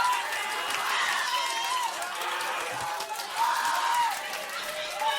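Crowd at a beatbox battle erupting in loud, sustained cheering and whooping with shouts and claps, swelling in waves; an excited announcer's voice rides over the roar.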